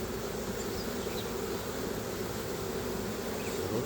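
A honeybee swarm buzzing steadily as the bees fan, a dense, continuous hum heard close and alone with no voices.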